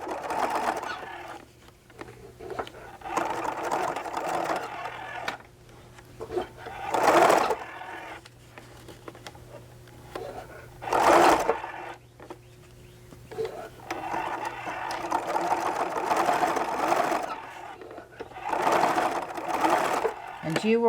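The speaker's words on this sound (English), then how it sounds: "it's a matter of just sewing 1/4 inch seam" A sewing machine stitches a quarter-inch seam on a small vinyl pouch in bursts of steady whirring, stopping and starting several times, with people talking in the pauses between runs.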